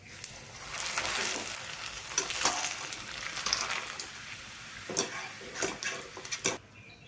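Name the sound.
appalam (papad) frying in hot oil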